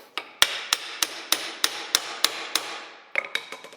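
Steel chisel struck repeatedly with a hammer against the brake cross shaft of a 1967 John Deere 710, about a dozen sharp close metallic blows in a steady rhythm, a quick cluster at the end, no talking.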